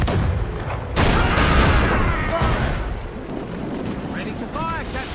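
Cannon fire in Assassin's Creed: a heavy booming blast about a second in, followed by a long rolling roar and rumble that slowly fades, with fainter crackles near the end.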